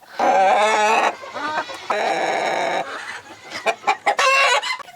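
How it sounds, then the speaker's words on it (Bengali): Silkie chickens cluck and squawk loudly up close in repeated bursts, with a rising crow-like call among them. "এটি চীনা মুরগি সিল্কি"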